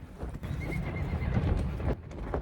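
A horse whinnies loudly and close by on Doe Tor in windy autumn weather, a drawn-out neigh with hoof clops mixed in, over gusty background noise.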